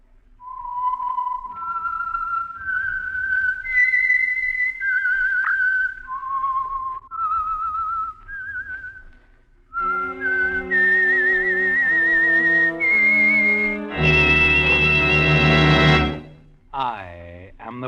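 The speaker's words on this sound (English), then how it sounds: "the signal to listen for is this whistle that identifies the Signal Oil program," The eerie signature whistle of the Signal Oil radio drama The Whistler: a lone melodic tune whistled in rising and falling phrases, then joined by swelling orchestral chords that end on a loud sustained hit.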